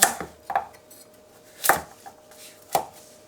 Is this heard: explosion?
no